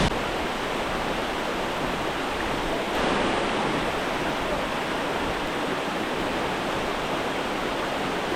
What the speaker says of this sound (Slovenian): Slap Vela Peč v vsej njeni veličini.